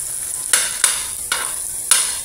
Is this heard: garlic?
yes